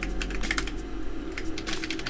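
Steady rapid typing on a computer keyboard, dense clicking keystrokes close to the microphone with no talking.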